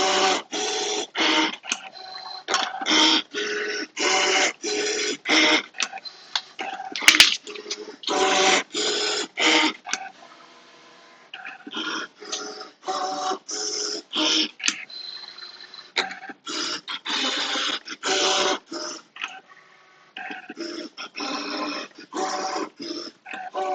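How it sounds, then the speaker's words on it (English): ScanNCut cutting machine cutting quilt fabric pieces: repeated short whirring motor bursts as the head moves, rapid start-stop rhythm with brief pauses, close and steady with no talking. "the ScanNCut will cut around these purple draw lines with 1/4 of an inch seam allowance"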